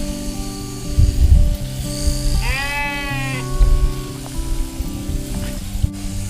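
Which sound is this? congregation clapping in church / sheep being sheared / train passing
sheep being sheared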